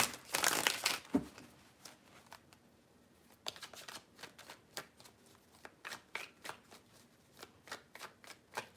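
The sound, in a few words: shuffling a deck of cards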